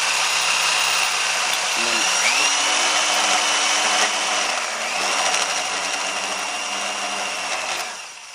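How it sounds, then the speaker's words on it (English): A power drill drilling out spot welds on a car radiator support whines steadily at high pitch, close up, with its motor briefly changing speed before winding down at the end. "you want to start the drill off slow"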